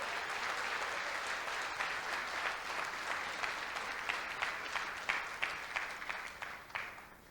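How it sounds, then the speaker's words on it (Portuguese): A church conference congregation applauding, a broad continuous wash of many hands clapping that thins into separate claps toward the end, with no speech. "Você pode aplaudir o Senhor Jesus?"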